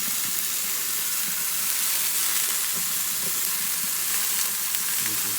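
Tomatoes and about five garlic cloves charring in a pot for salsa give off a loud, steady sizzle that runs unbroken throughout, with occasional faint stirring scrapes and no talking.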